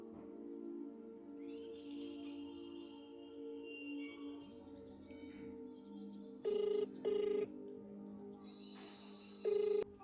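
A telephone rings in short electronic bursts, three quick tones over a low hum and faint background chatter.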